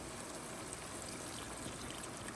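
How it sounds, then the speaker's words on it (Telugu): Hot water poured into a pot of mutton curry, a faint, steady trickling stream with no pauses. "ఎసరు కొరకు మనం చల్లనీళ్ళు కాకుండా వేడి నీళ్ళు పోస్తున్నాం,"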